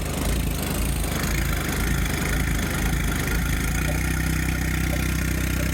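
A John Deere 1025R compact tractor engine idles with a steady, close, continuous low rumble and no pauses.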